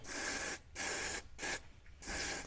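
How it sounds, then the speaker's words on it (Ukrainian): An aerosol can of lithium grease sprays onto the exterior door handle mechanism of a Tavria/Slavuta car in several separate hissing bursts. The bursts are close and fairly loud, and no one speaks. "І додаємо зверху літіві змазки"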